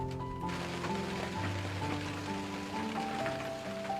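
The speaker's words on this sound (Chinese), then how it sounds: "享受雨声带来的宁静和安详" Rain falling on a wooden cabin roof covered with a tarp in the wilderness, a soft steady patter mixed with faint tonal music, calm and continuous.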